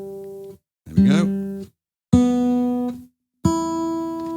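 Electric guitar strings plucked one at a time during fine tuning, four sustained notes separated by short silences, each ringing clearly and fading.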